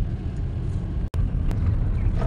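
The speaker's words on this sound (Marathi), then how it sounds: "एक गाडी पाठीमागून येत आहे" A car approaches from behind on a road during a village festival trip, its low broadband engine and tyre rumble steady and fairly close throughout, with a brief dropout midway.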